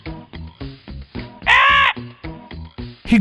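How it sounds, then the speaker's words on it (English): A crow caws in a children's storybook setting, a series of short rhythmic harsh calls with one longer, louder, higher caw in the middle, heard close and clear. "there lived a crow."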